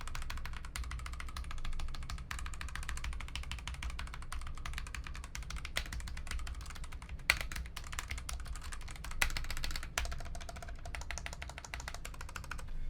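Fast, steady typing on a Womier WK61 60% hot-swappable keyboard with stock switches, dense clacky keystrokes close up with occasional louder spacebar or key thocks, heard alone.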